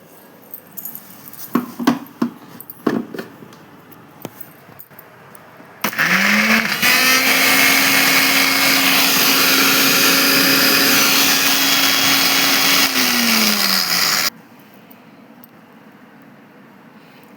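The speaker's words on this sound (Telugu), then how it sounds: "ఇప్పుడైతే మిక్సీ పట్టేసుకుందాం." A mixer grinder whirs loudly and steadily for about eight seconds as it blends onion chutney, preceded by a few clinks and jar rattles and followed by sudden quiet.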